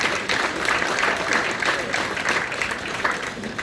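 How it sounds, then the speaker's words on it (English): An audience claps steadily for a few seconds, a dense, even wash of applause from a crowd at an event, fairly loud with no voices standing out. "give yourselves a huge round of applause"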